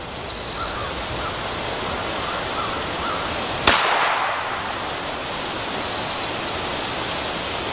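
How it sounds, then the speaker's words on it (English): A .22 solid-point bullet fired from a Ruger pistol: one sharp, loud crack cuts through steady outdoor hiss, followed by a short decaying tail, with no voices. "Now then, let's take the 22 with a solid bullet, and we'll shoot below it from our Ruger pistol."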